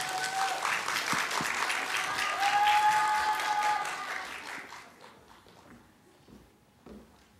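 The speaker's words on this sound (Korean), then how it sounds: "박수 부탁드리겠습니다." An audience at a university lecture claps warmly as a professor is introduced; the dense applause holds steady for about five seconds, then thins out to a few scattered claps and quiet.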